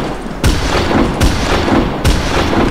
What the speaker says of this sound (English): It's like a sniper shotgun